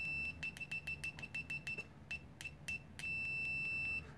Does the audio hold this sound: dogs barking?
no